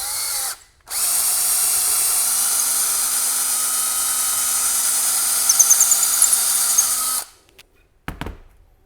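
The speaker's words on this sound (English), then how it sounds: "Now we'll come back and drill the larger hole right straight, same place I've got the pilot hole." A power drill bores a larger hole through dry wood at a pilot hole, whining loud and steady for about six seconds after a short blip, then spinning down into a few faint clicks.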